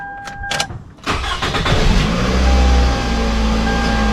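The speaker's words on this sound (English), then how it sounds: "I'm going to start up the vehicle." A 2005 Toyota Camry XLE engine cranks for about a second, then catches and settles into a steady, close, fairly loud idle hum, with no talking.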